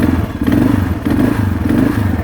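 A 2007 Kawasaki KLR650 motorcycle engine idles with a steady, throaty exhaust rumble, loud and close, with a slightly uneven pulsing beat throughout.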